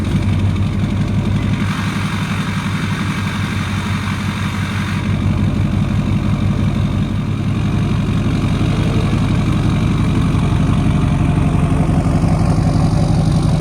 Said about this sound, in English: We'll get a nice little cold start on the old Duramax.